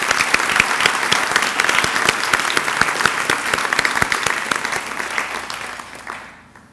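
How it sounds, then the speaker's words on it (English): Graduation audience applauding a keynote speaker's remark, a dense burst of clapping from a large crowd that holds steady and then fades out at the end. "I think we owe him a round of applause for that."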